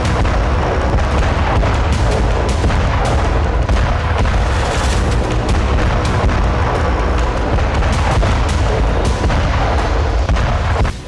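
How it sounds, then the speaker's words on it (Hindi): Heavy MLRS rocket artillery shelling in the Russia–Ukraine war, a dense continuous roar of booms and blasts, loud and sustained with no speech. "MLRS से जबरदस्त गोलाबारी की गई है"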